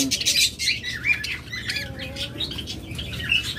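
Caged budgerigars and lovebirds squawk and chirp in a busy overlapping chatter, close by, with brief wing flutters and no talking.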